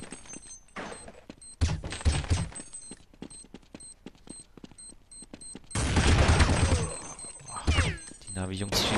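Rapid bursts of rifle and machine-gun fire from a Counter-Strike match on de_mirage, played at Copenhagen Games 2012, crackling in clustered volleys with short gaps and heavier sustained fire near the end, under excited commentary.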